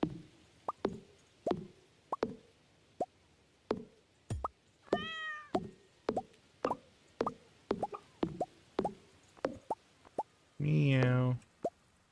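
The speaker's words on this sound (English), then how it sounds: "Meow." A cat meows twice in the video game Stardew Valley, once midway and once louder near the end, among rapid soft plopping game effects in an uneven rhythm.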